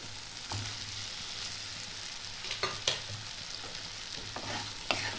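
Potatoes tossed into cooked tomato spice masala and frying, a low steady sizzle with a scattering of stirring scrapes and clinks, quiet and close.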